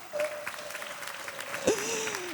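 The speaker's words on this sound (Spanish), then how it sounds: "Fuerte el aplauso." Applause from a church congregation, a soft steady patter of many hands clapping at a distance, with a sustained tone and a brief voice rising over it near the end.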